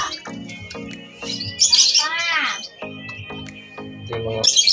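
Caged birds chirp and tweet with quick repeated calls during a Sunday bathing session, close and lively, while someone talks over them.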